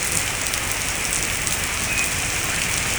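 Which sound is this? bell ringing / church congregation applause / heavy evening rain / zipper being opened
heavy evening rain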